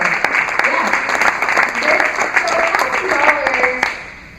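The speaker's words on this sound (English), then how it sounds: "So pretty incredible applause for her." Strong, steady applause from an audience at a Together for a Cure multiple sclerosis fundraiser fills the room throughout, with a voice talking over the clapping.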